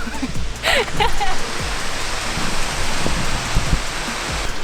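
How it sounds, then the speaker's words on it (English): A waterfall near Bow Lake on a hiking route up Mount Jimmy Simpson Jr. makes a steady, broadband rushing roar that fills the whole clip at moderate loudness, with faint voices briefly audible over it. "There's a waterfall over there though."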